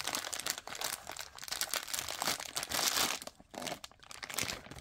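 Plastic packaging bags crinkle and rustle during the unboxing of a Vortex SPARC AR red dot sight, a close, busy run of crackling handling noise with brief pauses and no speech.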